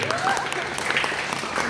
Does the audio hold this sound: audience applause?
yes